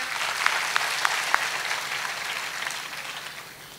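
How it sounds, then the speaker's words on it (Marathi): Audience applause at a public speech event, a broad crowd clapping wash with a few sharper near claps early on, gradually fading toward the end. "त्यांच्यासाठी पण एकदा जोरदार टाळ्या होऊ द्या."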